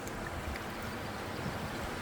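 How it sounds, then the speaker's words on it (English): Rushing water roars steadily nearby, a constant broad wash of a small waterfall over a beaver dam on the Oswegatchie River, with no voices or other sounds standing out. "Sounds like we got a decent waterfall here over a beaver dam."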